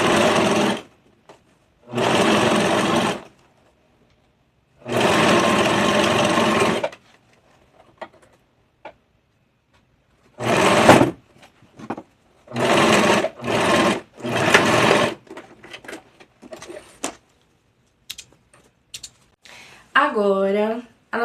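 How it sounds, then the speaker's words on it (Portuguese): A sewing machine running a straight seam along the top and side edges of a blouse, several loud bursts of fast, even stitching separated by pauses, with a few faint clicks and brief handling sounds in between. "E aí vai passar uma costura reta na ponta de cima e na ponta dos lados"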